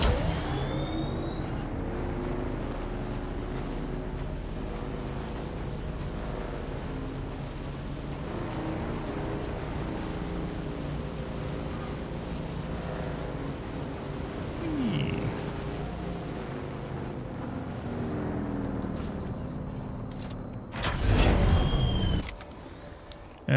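A new bike in Dune Awakening runs with a steady, low engine drone and purring hum for most of the stretch, swelling into a louder burst near the end, with no talk over it.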